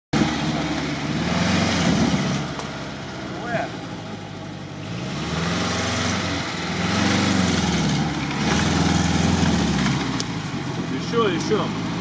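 A ZAZ-968M engine runs outdoors on an off-road outing, throbbing in uneven swells between idle and light revving, with people talking intermittently over the mechanical drone.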